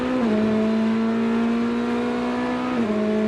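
A Corvette GT race car screams along the front straight in a GTD Pro endurance race, a loud sustained high-revving engine tone holding steady with a quick pitch dip at the start and again near the end.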